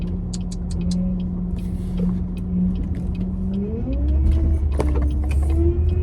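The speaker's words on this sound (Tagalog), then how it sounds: "Maingay na naman yung sasakyan ko" A noisy car engine idles with a steady low hum, then rises in pitch as it revs up, and a deeper rumble joins in near the end. Sharp clicks and clatter sound throughout, with no talk.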